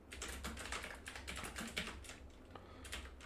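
Rapid clicking of someone typing on a computer keyboard, a steady run of close, crisp keystrokes with no pauses or voices.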